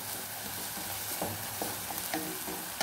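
Chopped onions fry in a pan for chicken bhuna masala, a steady close sizzle broken by a few brief scraping stirs, with no voices.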